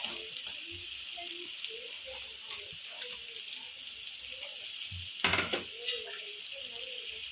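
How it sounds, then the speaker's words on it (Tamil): Onions and green chillies sautéing in a pan for Tamil-style chicken curry, a steady soft sizzle with occasional stirring clatters and a brief louder scrape partway through, no talk. "நல்லா வதக்கிக்கலாம்."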